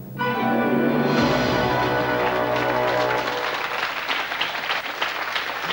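A studio audience on a TV quiz show bursts into applause after a sting of show music, dense and loud clapping that continues steadily to the end.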